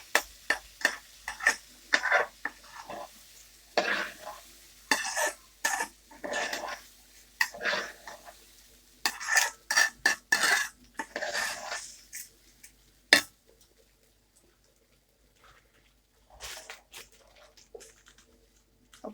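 Rice and vermicelli being sautéed and stirred in a pot, giving irregular bursts of scraping and rustling stirs that fade to a few scattered taps near the end, fairly quiet with no talking.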